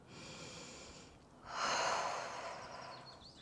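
A soft, close inhale during a vinyasa yoga flow, swelling gently in the middle and fading out, faint and alone without talk.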